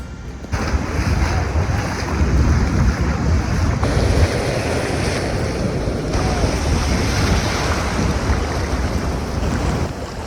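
Surf washing onto the beach at Mandarmani, a steady broad roar of waves with heavy wind buffeting the microphone, continuous and loud throughout with no talking.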